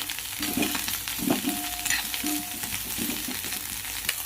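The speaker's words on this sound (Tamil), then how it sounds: "லைட்டாக வதக்கினா போதும்." Karpooravalli leaves and coriander sauté in a pan, giving a constant close sizzle with soft scraping stirs at a steady, unhurried pace and no talking.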